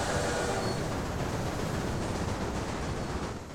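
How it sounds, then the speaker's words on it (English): Freight train rumbling along in the Railway Empire video game, a continuous steady broadband rolling noise with no talk. "Let's see how that freight train's getting on"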